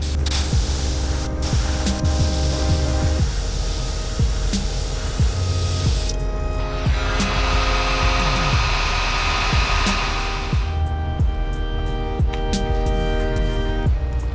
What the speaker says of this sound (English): You've got the black in the gun. Let's shoot that up real quick.